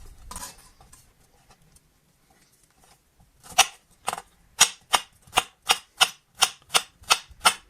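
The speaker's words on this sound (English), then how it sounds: "So this garlic, I'm just chopping it up" A knife taps steadily on a chopping board cutting garlic, starting with a few scattered strokes then settling into a quick, even rhythm of close, crisp chops.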